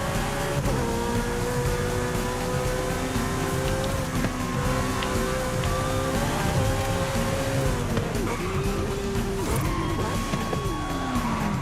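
A Porsche 918 races flat out in Forza Horizon 5, the engine droning loud and near through repeated upshifts with stepping pitch, a brief tire squeal and a downshift dip near the end, and no voices.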